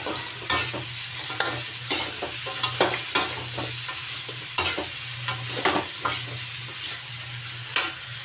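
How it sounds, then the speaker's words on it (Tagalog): Ginataang takig with turtle snake stirred in a pan: a utensil scrapes and clacks against the metal in irregular strokes over a steady, fine sizzle, with a low hum underneath. "Haluin natin."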